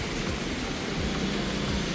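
Steady rain falls on a rainy day in Ghana, a dense even hiss with a low rumble beneath, constant and fairly close, with no voices.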